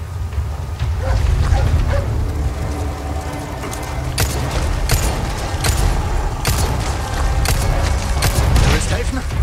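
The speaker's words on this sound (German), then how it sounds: "Hey, das ist doch der Hund." A dog barks in Resident Evil 4 Remake, with sharp yips and barks scattered over a dense, rumbling game soundscape of action and clatter.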